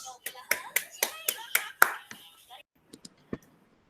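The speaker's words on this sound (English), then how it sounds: "Let's give him a virtual round of applause." A few pairs of hands clap in a quick, steady rhythm for a couple of seconds at a virtual graduate school expo, then trail off into scattered single claps.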